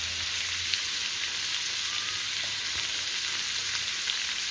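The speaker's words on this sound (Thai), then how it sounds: "ยายพินทอดให้เขาเหลืองแห้งสักหน่อยนึง" Fermented sour pork fish frying in oil until golden and dry: a continuous, even crackling sizzle, steady and close, with no voices.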